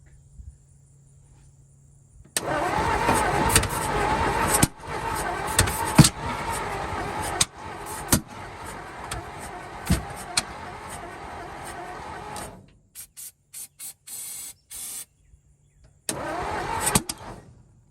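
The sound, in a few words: 1949 Ford truck engine cranking, trying to start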